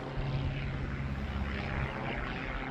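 An airplane drones overhead during an outdoor hike on a long-distance trail, a steady broad rumble holding even and moderately loud throughout, with no voices over it.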